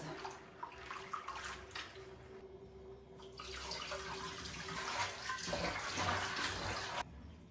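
Running water splashes and gurgles steadily as beans are rinsed, with brief pauses and a sudden stop near the end.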